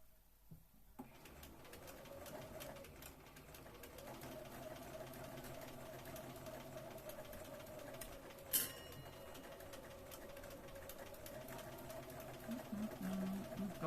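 A sewing machine stitching a Regency dress runs steadily at low level for most of the stretch, with a faint mechanical hum, a brief sharp click midway and soft birdlike chirps in the background.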